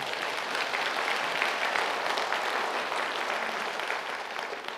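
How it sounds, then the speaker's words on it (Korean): An audience at a civic talk on a smart Anyang gives sustained, steady applause throughout, moderately loud and evenly dense from start to finish, with no talk over it. "그럼 박수 한번 쳐보세요."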